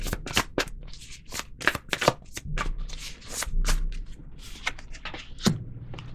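Tarot cards being shuffled during a Capricorn reading, a rapid run of crisp riffling snaps and slaps, close and fairly loud, with no talking over them.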